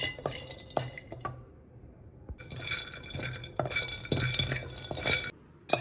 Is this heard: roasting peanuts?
yes